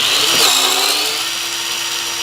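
A TorcUP center lock pneumatic torque wrench runs in loosening mode on a wheel nut, giving a loud close whirring burst that rises in pitch, then settles into a steady high mechanical hum.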